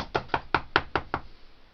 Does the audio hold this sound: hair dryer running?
no